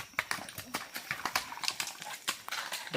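Peruvian Paso Fino horse walking a wet, muddy, slick trail, its hooves falling in a quick, even, close clip-clop rhythm, fairly quiet and with no talking.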